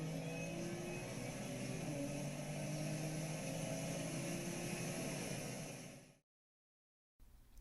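A car engine holds a steady drone during a track day at Buttonwillow, faint and distant with a continuous whine, then cuts out abruptly near the end before briefly returning.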